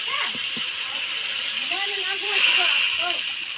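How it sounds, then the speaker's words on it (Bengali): A loud, steady hiss as water is poured onto hot fried spice paste in a pan for a Bengali fish curry, sizzling continuously while a person talks over it. "আমি জল ঢেলে দিচ্ছি।"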